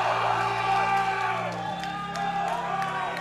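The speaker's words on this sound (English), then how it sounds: "The crowd is on their feet." A crowd at a powerlifting meet whoops and cheers continuously with scattered shouts, a moderately loud wash of voices under steady droning background tones.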